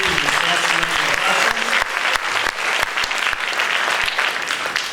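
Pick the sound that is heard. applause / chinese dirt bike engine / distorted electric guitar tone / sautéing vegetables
applause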